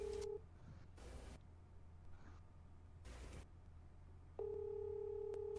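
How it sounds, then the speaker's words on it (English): Faint electronic telephone tones: a short beep at the start, then a longer steady tone near the end, heard against quiet background hiss with no talking. "Oh, I just heard the phone."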